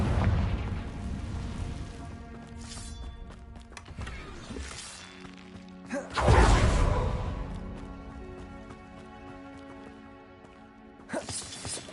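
Confringo fire spell in Hogwarts Legacy bursts with a loud boom around the six-second mark, amid earlier smaller pops and crackling game effects, with a fainter burst near the end.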